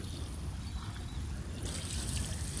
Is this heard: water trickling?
yes